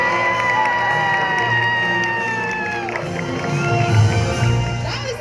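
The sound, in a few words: arena audience cheering loudly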